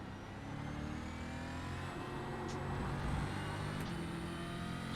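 Stock car from the Stock Car Brasil series in the iRacing sim, its engine droning steadily and close throughout with slight swells in pitch as it brakes and accelerates on track.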